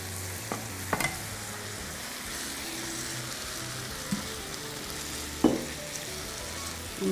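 Cabbage stir-frying in a wok for twice-cooked pork, a steady soft sizzle broken by occasional scraping stir strokes and light clanks, close and fairly quiet with no talking.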